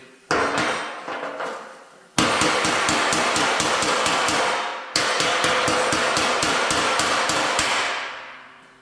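Rapid, loud hammer blows knocking dents out of a heavy steel GMC truck front bumper, three long bursts of metallic strikes in a fast even rhythm, close and ringing.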